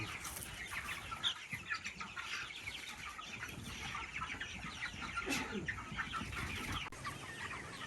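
Cornish Cross meat chickens cluck steadily in a flock, a dense continuous chorus of overlapping clucks and chirps close by, with no talk.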